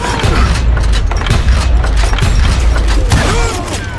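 A gun fires in the Call of Juarez: Gunslinger Wild West shooter. Loud, close booming blasts and thuds come in quick succession against busy action noise.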